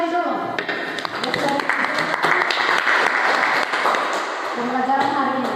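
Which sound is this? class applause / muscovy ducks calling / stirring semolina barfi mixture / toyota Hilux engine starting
class applause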